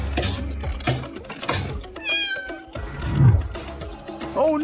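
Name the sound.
cat meowing, stuck kitty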